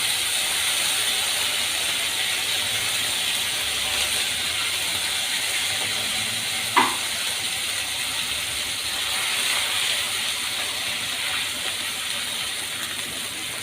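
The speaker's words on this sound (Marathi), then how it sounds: "हा पहिले फ्राय करून घेऊया छानपैकी" Onion masala paste frying in a pan gives a steady, even hiss that carries on without a break, with a single short clatter around the middle, no speech.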